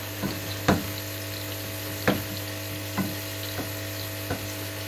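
Kadai masala and onions frying in a wok under a constant low hum, with occasional sharp stirring knocks spaced irregularly and a faint sizzle in the background.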